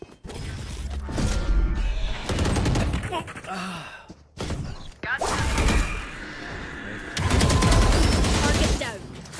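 AK rifle fire in the shooter game Valorant, dense bursts of gunfire with mechanical clatter in several loud stretches, mixed with game effects and some voice.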